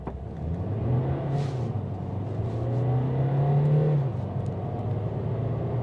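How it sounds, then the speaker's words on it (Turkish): A Mercedes A180d diesel car engine revs hard under full acceleration, the pitch climbing steadily through a gear change, heard from inside as a loud continuous roar. "Şurada duralım ve bir dip gaz yapalım."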